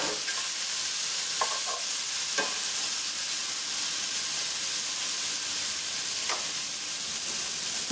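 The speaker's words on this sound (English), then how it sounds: "Give that a quick stir, just to make sure all those flavors are blended in nicely." Hoisin sauce being stirred into pineapple rice in a pan makes a soft, continuous sizzle with a few light spatula scrapes and no voices.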